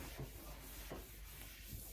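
Soft rubbing strokes of a cleaning wipe on a shoe, a few brief swipes spaced apart, quiet and close.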